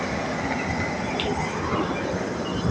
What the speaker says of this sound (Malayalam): വേറൊരു വണ്ടി കൂടെ വന്നു, ആ പോയി